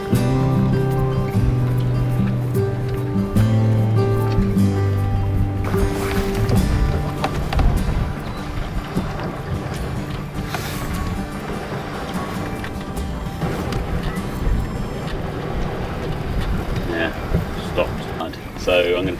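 A sailboat moves through the water under sail, with wash, wind buffeting and hull noise throughout, under a voice talking and some tonal sounds early on.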